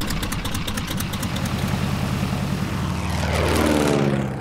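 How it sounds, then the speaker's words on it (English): A 1940s vintage open-cockpit propeller plane drones loudly in flight, its engine a dense, throbbing roar with a pulsing propeller beat that shifts in pitch toward the end. "It's amazing that I'm soaring in a 1940s plane."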